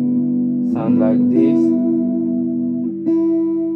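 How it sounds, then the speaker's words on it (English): An electric guitar played through an Arion chorus effect pedal rings out with sustained shimmering notes, someone briefly talks over them, and a fresh chord is struck near the end. "Arion chorus. It's a very nice chorus."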